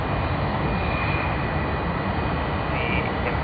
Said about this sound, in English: QF82 coming in from Singapore, that is Qantas's Airbus A380